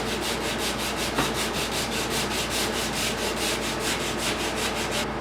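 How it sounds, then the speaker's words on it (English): Sandpaper is rubbed by hand over the wood of a mid-century bedroom furniture piece, making a steady, rhythmic run of about twenty quick back-and-forth strokes. It is close and alone. "the next step is just to hit it with some sandpaper, just to make sure that we're nice and smooth."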